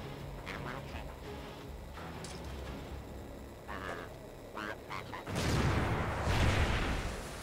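A grenade blast in a Call of Duty-style Search and Destroy match: a loud, broad burst of explosive noise erupts near the end, after steadier game sounds and scattered effects.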